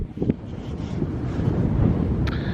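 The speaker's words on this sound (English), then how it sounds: "It's very windy." Strong wind on the Atlantic City boardwalk roars and buffets the microphone continuously, a rough low rumble with no speech over it.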